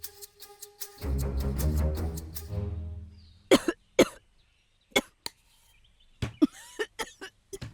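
A woman coughs in a long harsh fit, then after a brief pause gives several sharp, separate coughs and throat clears, close and loud in a quiet indoor room.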